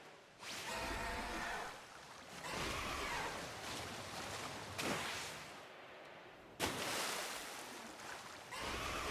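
Water surges and splashes in broad washes while riding across the sea in Pokémon Legends: Arceus, each wave swelling for a couple of seconds before cutting off, then returning louder.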